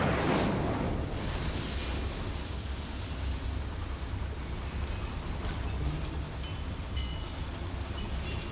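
Incendio fire spell cast inside a mine in Hogwarts Legacy, a sharp whooshing flare at the start settling into a steady roaring rumble of flames and machinery that lasts several seconds.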